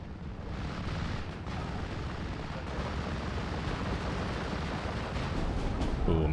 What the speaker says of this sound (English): my mortar got bombed